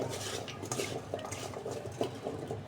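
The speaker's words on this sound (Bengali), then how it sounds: "কচুর মুখিটা আমি লবণ দিয়ে মাখাই রাখতেছি" Taro roots being rubbed with salt in a bowl in a home kitchen give a steady, close-up run of gritty scraping and light clinking against the bowl, continuous with small bumps, no talking.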